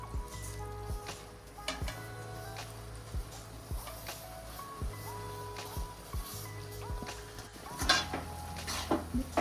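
Crushed churma is mixed into cooked ghee and jaggery in a pan, producing soft scraping and stirring with intermittent metallic clinks of the spoon on the pan and a low hum underneath.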